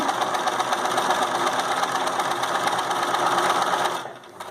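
A sewing machine stitches a fabric casing in one steady, loud, continuous mechanical whir with a fast regular rhythm that winds down and stops near the end.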